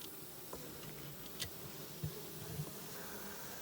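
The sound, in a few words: Africanized honeybees buzzing at a hive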